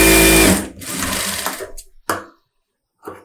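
A sewing machine runs a rough tacking stitch down the center of a 3/4-inch blouse strip for a close-neck blouse: one loud, close whirring run, then two short bursts separated by silent pauses.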